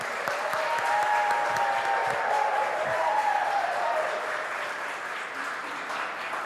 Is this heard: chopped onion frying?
no